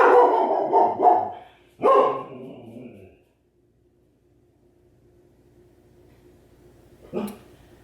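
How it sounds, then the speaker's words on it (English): A nearby dog barks several times in a quick burst, falls silent, then gives one more short bark a few seconds later. "barking at the UPS man or something."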